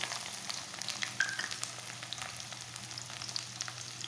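Cumin and onion sizzling in a hot pan for biryani, a steady crackling fry with occasional louder pops and stirring scrapes, heard close and alone.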